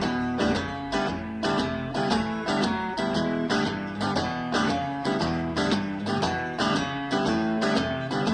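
A blues guitar is strummed steadily, a bass note followed by full down and upstrokes across all six strings, in a continuous rhythmic groove played alone and up close.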